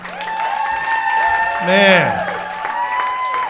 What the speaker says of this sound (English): Let's hear it for these kids.